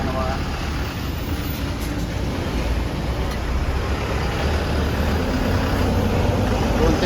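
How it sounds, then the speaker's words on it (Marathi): Road vehicles arriving for a trip, a steady broadband rumble of engines and traffic close by with no distinct horn or pass-by standing out. "आपल्या गाड्या आल्यात"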